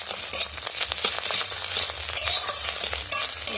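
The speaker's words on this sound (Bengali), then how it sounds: "এবার ওর মধ্যে আমি দিয়ে দেব তেল, দিয়ে আমি মাছের ওই ডিমটাকে ভেজে নেব" Fish roe fries in hot oil in a kadai, a steady close sizzle broken by crackles, pops and scraping stirring strokes throughout, with no voices.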